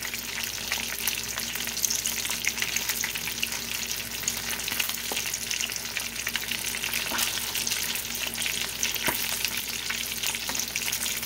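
Fish frying in hot oil gives a steady crackling sizzle with sharp splattering pops, close and moderately loud, with no talking.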